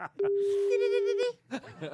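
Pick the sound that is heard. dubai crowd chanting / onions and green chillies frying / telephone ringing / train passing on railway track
telephone ringing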